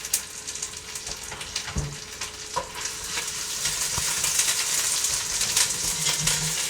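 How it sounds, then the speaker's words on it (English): Wet ginger paste from a tube hitting very hot oil, a loud dense sizzle and spatter that builds over several seconds with occasional pops and knocks. "Yes, that is wet ginger and hot oil."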